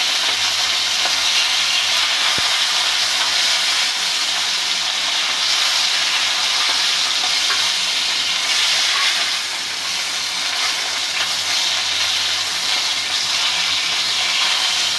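Fish frying in hot oil: a loud, continuous, dense sizzle and hiss that holds steady throughout, with no talk.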